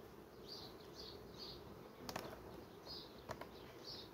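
Bees buzz around a hive in a steady, close drone, with occasional louder passes of single bees flying near and a couple of brief clicks or knocks.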